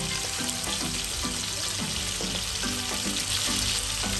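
A salmon fillet pan-searing in a frying pan, a dense, constant loud sizzle with faint rhythmic tapping throughout, close and without speech.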